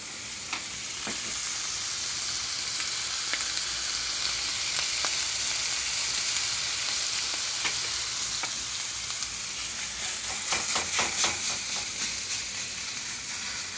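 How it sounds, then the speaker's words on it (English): Meat sizzles on a hot griddle with a continuous crackling hiss, scattered sharp pops and spits rising in intensity toward the end. "See the juice running down on the griddle."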